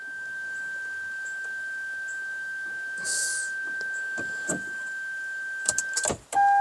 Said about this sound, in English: fan's running, turn the fan off. It's singing.